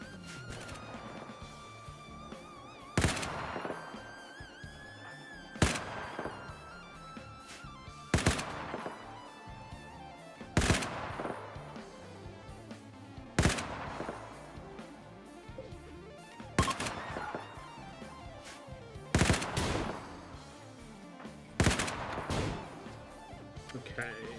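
A ballistic combat gun fires in a video game, heavy sharp gunshots in short repeated bursts a few seconds apart, loud and punchy over a quieter background.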